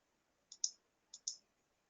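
Two quick double clicks of a computer mouse selecting a checkbox in hospital clinical software, crisp and close in an otherwise quiet room, with no talking.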